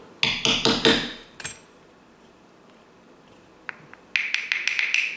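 A quick burst of sharp metallic taps on the corner of a bottle cap, denting it, a pause with a couple of faint clicks, then another rapid series of bright taps.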